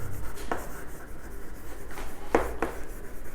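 Pen writing an accounting transaction entry on paper, soft scratchy strokes close by with a couple of sharper taps as the nib moves and lifts, alone and without talk.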